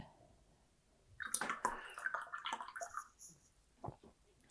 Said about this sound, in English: Rinse my brush off so I have a very clean brush